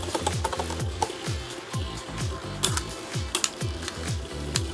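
Beyblade spinning tops clashing in a plastic stadium during test battles, a fast run of clicking, grinding and ratcheting hits with sharp impacts over a whirring spin, close and loud.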